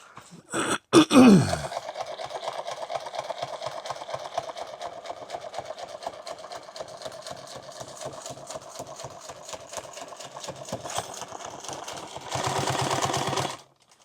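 A sewing machine stitches contrast thread on a padded helmet bag, running in a long steady rapid chatter after a brief clunk, then speeding into a louder buzzing burst before stopping.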